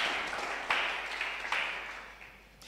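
A church congregation applauds, a dense wash of clapping hands that swells with a few sharper bursts and then gradually thins out, heard at moderate distance without speech.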